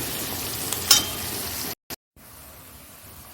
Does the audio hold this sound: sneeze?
no